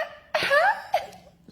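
A person imitates a deliberately restrained, muffled cough: one short stifled burst followed by a smaller second puff, close and brief, with quiet breathing after.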